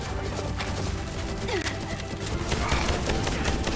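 A shotgun fires in the video game Bright Memory as a rapid run of dense, crashing blasts amid constant loud combat noise.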